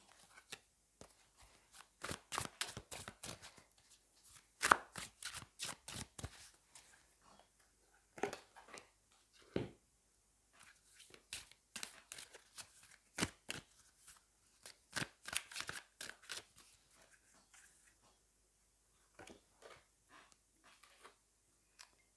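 Tarot and oracle mirror cards are shuffled and handled at close range in a quiet room. Bursts of crisp riffling and flicking come in clusters with short pauses between them, and a card gets drawn now and then.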